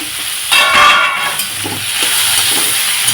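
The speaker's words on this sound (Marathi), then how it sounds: "शिमला मिरचीला पण छान फ्राय करून घेते मी" Capsicum frying in a pan with onion, a loud steady hiss and crackle that swells briefly and then settles into a continuous sizzle with light scraping.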